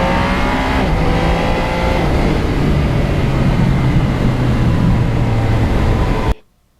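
A 2020 Yamaha MT-09 motorcycle rides salty, leaf-covered roads, its engine roaring steadily and loudly with rising, stepped tones as it accelerates through quick-shifter gear changes, cutting off abruptly at the end.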